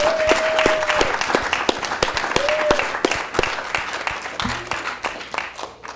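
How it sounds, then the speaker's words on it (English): Applause from an audience at a student government general assembly, with scattered claps rising into a steady wash of clapping across the room and some crowd noise mixed in. "Can we please get a round of applause for all the members of Exec and Colleen"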